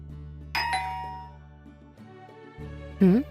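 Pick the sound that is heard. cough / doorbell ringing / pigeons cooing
doorbell ringing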